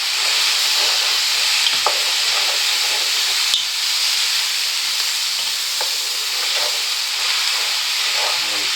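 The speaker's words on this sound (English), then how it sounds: "Okay, give that a good stir." Garlic and mushrooms sizzle steadily in a pan for a slow-cooker beef stroganoff, with soft scraping stir strokes and light clicks over a constant hiss and no voices.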